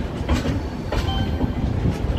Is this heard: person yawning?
no